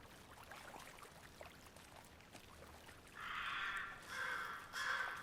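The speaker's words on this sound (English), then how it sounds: "water, sounds of crows?" Crows caw in loud, drawn-out calls near water in Alan Wake 2, three harsh cries closing out a faint, watery ambient backdrop.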